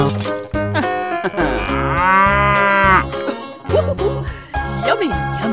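A cartoon cow moos in long, drawn-out calls over several seconds, loud and close, set against a playful children's soundtrack.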